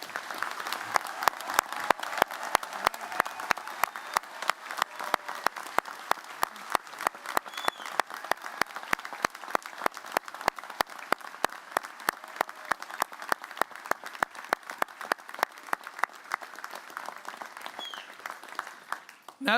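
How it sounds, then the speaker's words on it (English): Sustained applause from the audience at a college graduation ceremony, steady and moderately loud throughout, with a few louder individual claps standing out near the microphone. "give a final special round of applause to everyone here and the graduates online"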